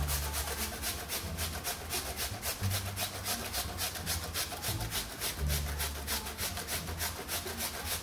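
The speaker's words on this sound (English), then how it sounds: "This is just a half a potato, which I'm grating so that it can dissolve or be absorbed easier by the liquid" Half a potato being grated by hand for a creamy fish head soup, a steady rhythmic rasping with regular strokes, close and moderately loud throughout.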